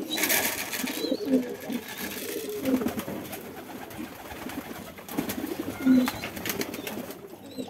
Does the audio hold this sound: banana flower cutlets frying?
no